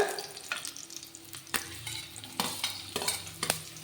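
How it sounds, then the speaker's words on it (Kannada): Finely chopped fresh red chillies and onions frying in hot oil for a mixed greens palya, stirred with a ladle, a steady sizzle broken by sharp scraping strokes at an irregular rhythm, close and alone. "ಇದನ್ನು ಈ ಥರ ಸಣ್ಣದಾಗಿ ಹೆಚ್ಚಿಟ್ಕೊಂಡಿದ್ದೀನಿ ಇದನ್ನು ಹಾಕ್ಕೊಳ್ಳೋಣ ಇವಾಗ"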